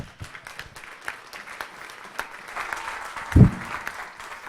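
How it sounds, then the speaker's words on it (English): Applause from a morning business-pitch gathering welcoming a presenter from Envision Nutrition, moderate and steady with scattered individual claps, a brief louder thump near the end. "Give him a round of applause"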